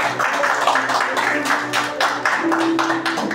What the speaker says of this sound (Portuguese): palmas bem forte para Jesus